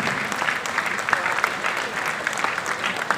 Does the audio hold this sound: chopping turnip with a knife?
no